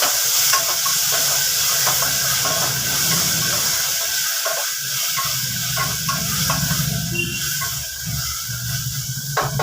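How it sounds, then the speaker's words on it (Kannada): Onion, green chilli, garlic, mustard seed, asafoetida and two sour tomatoes frying together for a fenugreek-leaf sambar, a loud steady sizzle and hiss close by with occasional stirring scrapes throughout. "ತದನಂತರ ಟೊಮೊಟೊ, ಹುಳಿ ಟೊಮೊಟೊ 2, ಇದನ್ನು ಫ್ರೈ ಮಾಡೋಣ ಚೆನ್ನಾಗಿ"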